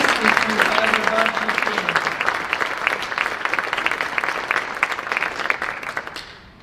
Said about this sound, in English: I want a round of applause for our academic award winners.